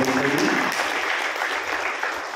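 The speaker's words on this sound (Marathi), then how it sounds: "जोरदार टाळ्या वाजवा" Audience applause at a Buddhist dhamma camp welcome ceremony: a steady, dense crowd clapping that fills the whole stretch, with a voice briefly audible near the start.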